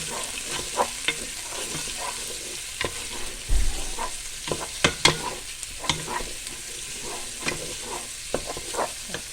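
Bamboo shoot and basa fish for a coconut milk dish are stirred in a frying pan with garlic, giving a steady sizzle broken by scraping spoon strokes and occasional clanks, close and alone.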